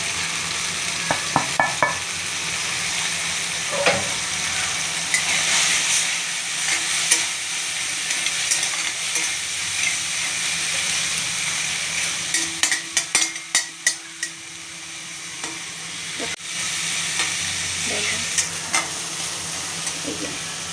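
Potatoes and cauliflower tossed with salt, coriander powder, turmeric and chili powder sizzle steadily in a pan, with a run of sharp scraping stirs clustered midway and scattered spoon knocks against the pot.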